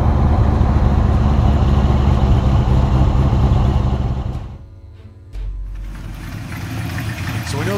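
Engine of a 1965 Corvette Sting Ray Coupe heard from inside the cabin while driving, a loud, continuous rumbling drone that dips sharply for a moment and then resumes at a lower level, with no talking.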